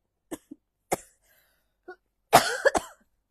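Several short coughs spaced apart, then a harsher cluster of coughs and throat clearing, close and fairly loud.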